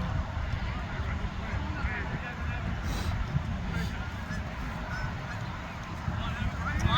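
Geese honking near an outdoor youth soccer game, several scattered honks rising over a constant field wash of wind and crowd noise, with people talking.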